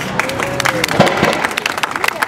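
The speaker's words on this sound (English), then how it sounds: "I first want you guys to give yourselves a hand of applause" A crowd at a city council meeting claps, a rapid crackle of many hands with scattered voices and murmuring mixed in throughout.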